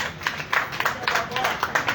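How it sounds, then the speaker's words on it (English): Scattered hand claps from an audience at an institutional address, coming in irregular bursts and fairly faint, with murmuring voices underneath. "Give her a hand of applause."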